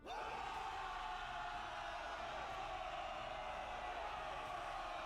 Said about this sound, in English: The ear-piercing cheer of approval goes up, resounding through the city square.